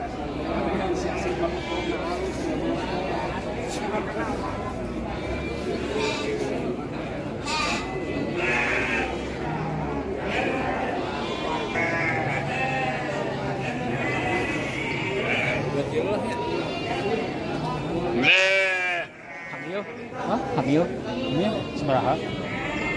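Garut sheep bleating repeatedly at a busy livestock market in Bayongbong, several animals calling near and far amid constant crowd chatter and people talking close by.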